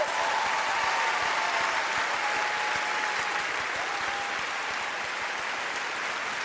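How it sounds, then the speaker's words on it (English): Large comedy festival gala audience applauding steadily, a dense, loud wash of clapping that holds level for several seconds and tapers only slightly, with no talk over it. "Ladies and gentlemen, give them a round of applause."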